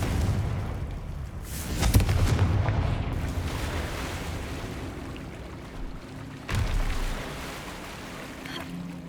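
Booming blasts of the Confringo spell in the Hogwarts Legacy video game: a heavy explosion near two seconds, a second sharp blast near six and a half, with rumbling decay between.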